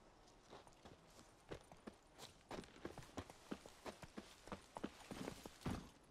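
Roach the horse clip-clopping along in The Witcher 3, a steady run of hoof strikes at moderate distance over a soft, continuous game ambience with no talk.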